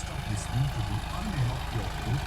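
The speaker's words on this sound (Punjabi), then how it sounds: "ਖੇਤਾਂ 'ਚ ਟਰੈਕਟਰ ਚੱਲਦਾ ਆ" A tractor engine idles in farm fields with a steady, low rumble without pause, a deep mechanical throb that stays fairly even throughout.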